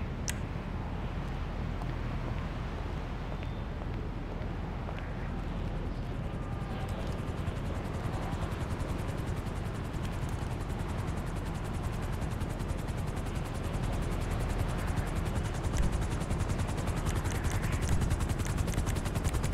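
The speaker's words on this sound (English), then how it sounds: "A helicopter has been dispatched." A helicopter's steady rotor roar and whine fills the scene in the video game GTA 5, dense and continuous, with faint game booms and effects mixed in.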